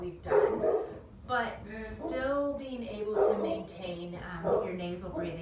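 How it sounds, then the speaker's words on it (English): Several dogs barking in the background in repeated yips and bow-wow bursts, some whimpering, under a person talking through a workout session. "I apologize if you guys hear the dogs barking in the background."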